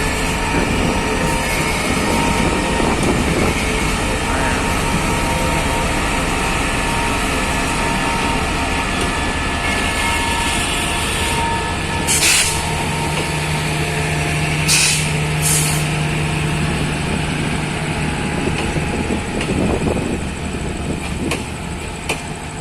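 Two diesel locomotives, 5207 and 5217, haul a new-locomotive test train on the Bangkok–Chiang Mai line, a loud, continuous engine drone and rolling rumble with a few sharp hissing bursts, with no speech.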